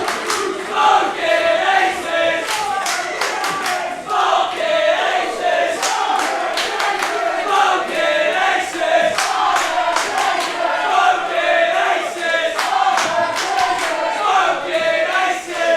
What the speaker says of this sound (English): Got some dueling chants going on in the crowd right now.